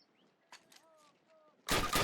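One loud, sharp gunshot from Call of Duty bursts out near the end, after a quiet stretch with faint background sounds and voices.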